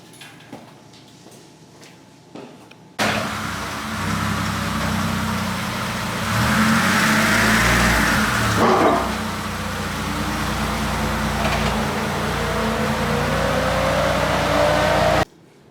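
A car drives slowly into a Park Plus automated parking system, its engine humming at close range and swelling briefly as it pushes forward, with mechanical creaks partway through and no speech.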